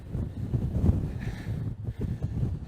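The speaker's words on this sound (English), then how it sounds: "it's just so windy I can't even put into words" Gusty beach wind batters the microphone close up, a dense, unbroken rumble rising and dipping with each blast.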